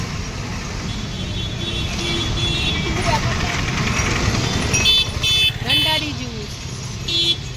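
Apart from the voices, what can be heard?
road traffic while crossing the street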